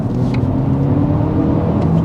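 BMW M135i accelerating hard, a steady deep engine rumble and road noise from inside the car, loud and continuous with no talk.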